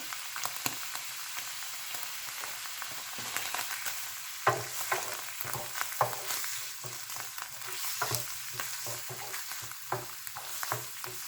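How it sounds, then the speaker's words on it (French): Mushrooms frying over low heat for a ham and mushroom puff pastry filling, a steady soft sizzle broken by frequent scraping stirs of the pan, close and alone with no talking. "On fait frire les champignons à feu doux."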